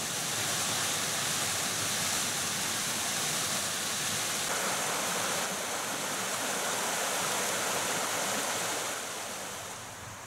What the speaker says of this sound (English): the ongoing track followed the tumbling course of Greenfield Brook.